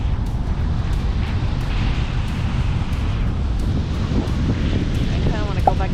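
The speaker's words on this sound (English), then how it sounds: "it's a little windy and chilly" Wind gusts on a chilly beach, a constant low rumbling buffet against the microphone, loud and unbroken throughout, with brief faint voices near the end.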